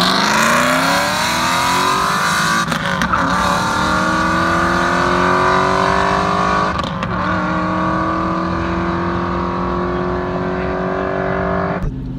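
Aston Martin V8 Vantage fitted with a Fabspeed X-pipe exhaust, loud and close, revving hard through repeated rising sweeps with brief gear-change dips, a continuous aggressive V8 roar throughout.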